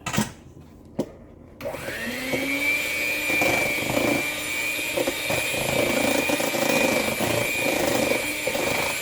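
An electric hand mixer whips eggs and butter for coconut mango muffin batter, starting after a couple of clicks and then running as a steady, loud, close whine with a sustained motor drone.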